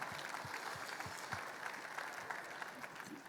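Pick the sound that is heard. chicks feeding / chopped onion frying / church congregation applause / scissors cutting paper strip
church congregation applause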